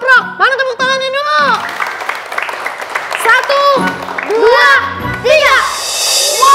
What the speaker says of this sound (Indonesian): Mana tepuk tangannya dulu?